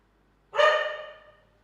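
Puppy letting out a single sharp, close bark that rings briefly and fades, alone in an otherwise quiet room.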